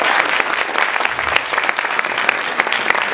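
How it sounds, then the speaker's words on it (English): An audience at a college hypnotist show breaks into loud, sustained applause, a dense wash of clapping hands that holds steady throughout. "Give me a round of applause for that."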